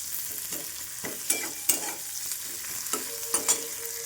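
Chopped onions with cumin and green chillies fry in hot oil under a soft, steady sizzle, broken by repeated scraping knocks from a spatula stirring the pan, with no voices.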